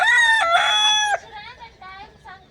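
A desi country rooster crows once, loud and near, the long call trailing off, followed by softer clucking from hens.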